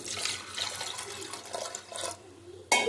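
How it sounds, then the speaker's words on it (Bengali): Water runs from a tap onto chana dal being washed in a kitchen, a steady splashing rush for about two seconds that pauses, then a brief louder burst of pouring at the end. "ভালো করে না ধুলে জল দিয়ে দিলাম"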